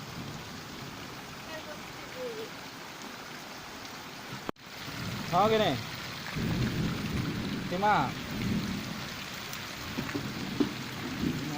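Heavy rain pours steadily over a village in Odisha's Sambalpuri region, a dense continuous hiss with low rumbles, while voices talk and a sharp click breaks in midway.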